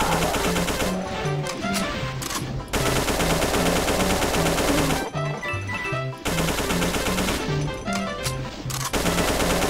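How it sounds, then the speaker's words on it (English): Continuous rapid assault rifle fire from the remastered first-person shooter game The Golden Souls, loud and sustained with short breaks, alongside in-game music and no speech. "New weapon! We got the assault rifle."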